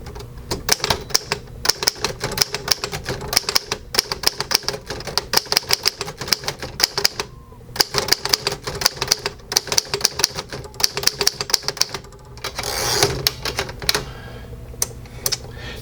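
A 1940 Underwood Master manual typewriter types in red, rapid uneven clacking keystrokes in bursts with brief pauses, close and clear, ending in a carriage-return sweep and a few final strokes.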